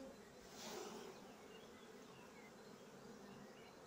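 Bees buzzing around a beehive, many drones among them, a dense steady hum close to the listener with one bee swelling louder as it passes near.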